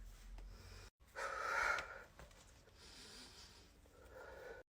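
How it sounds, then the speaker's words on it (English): Close, heavy breathing with a loud, rasping exhale in the middle, followed by softer, labored breaths and a brief snort-like sound. "I hear your heavy breathing."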